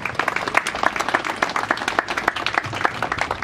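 Church congregation at a memorial service applauding, many hands clapping in a quick, dense, slightly uneven patter that stays steady at moderate loudness for several seconds.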